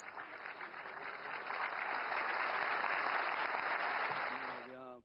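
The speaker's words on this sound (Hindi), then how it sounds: "तालियां गूंज रही है" Applause inside a played news clip: a steady wash of clapping from a crowd, continuous and moderately loud, swelling slightly midway before a voice begins to intrude near the end.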